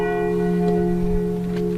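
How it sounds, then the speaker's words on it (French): Church bells named Odile, Pierre et Paul, and Marie ring together in a sustained, resonant peal, their tones lingering and blending as the ringing fades toward stopping. "on va laisser les cloches s'arrêter"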